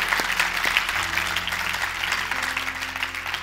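A church congregation applauding, a dense sustained wash of clapping from a large crowd filling the room at steady loudness throughout.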